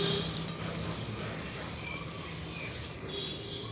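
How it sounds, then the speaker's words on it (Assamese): Potatoes frying in oil with dried chillies, bay leaf, panch phoron and cumin, a faint steady sizzle with a few soft stirring sounds, quiet and close, no talk. "আৰু এইখিনি আলু ভাজি ল'ম মই"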